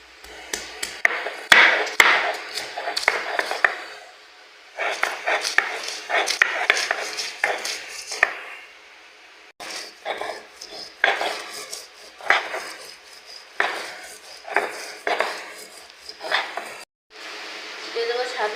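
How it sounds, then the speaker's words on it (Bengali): Green chilies and an onion being mashed by hand for raw mango bharta, giving repeated clattering, scraping taps of utensil against a dish in bursts across the clip, close and fairly loud, with short pauses between rounds. "এবার আমি বেটে নেব।"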